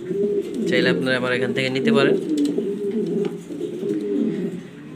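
A female pigeon coos in a low, rolling throaty series close up, partly under someone speaking.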